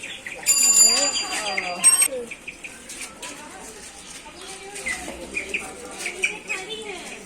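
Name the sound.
ducks and chickens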